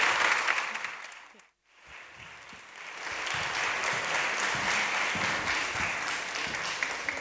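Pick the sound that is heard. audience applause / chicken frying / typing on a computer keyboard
audience applause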